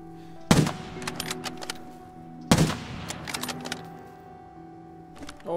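Two loud, sharp Mosin bolt-action rifle shots in a tactical shooter video game, about two seconds apart, each followed by a brief ringing tail over a steady low ambient hum, with faint clicks and rustles in between.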